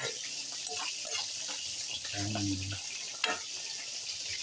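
Steady hiss of fried dish frying in a pan for a lunch meal, with a few clinks and a brief low rumble partway through.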